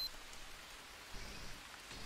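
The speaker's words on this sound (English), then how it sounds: "And it's raining again, so they're going to refill pretty quick." Rain falls steadily in the jungle survival video game Green Hell, a soft, faint, continuous patter with a slight swell of heavier drops toward the end.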